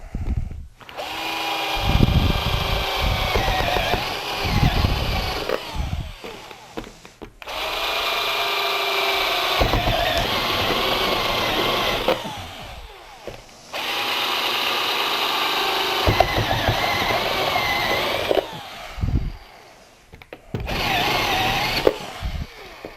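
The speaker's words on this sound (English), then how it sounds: "This is a step drill that I've got in here right now" A power drill with a step drill bit whines through material cutting an opening in several long bursts separated by brief pauses, loud and close with a grinding, cutting edge.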